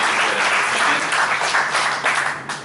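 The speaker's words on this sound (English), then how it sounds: "Let's hear a big round of applause for past RI director" A large audience at a Rotary district event gives sustained applause for a past Rotary International director, a dense, even wash of clapping that holds steady and tapers slightly toward the end.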